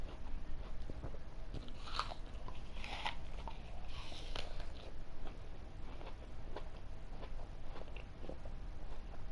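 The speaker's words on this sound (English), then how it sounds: "I'm chewing the apple too, so if you hear some chewing," Close, wet chewing and biting on a crisp apple, with soft crunches scattered steadily through a low background hiss and no talking.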